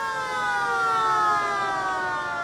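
A blowdown warning siren sounds before a building demolition in Bradford, a loud, steady wailing tone that holds continuously with a slight drift in pitch, with no voices.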